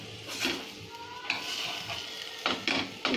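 Butter sizzling in a pan while a quick snack fries, a soft steady sizzle broken by a few scraping stirs and sharp spatula taps near the end.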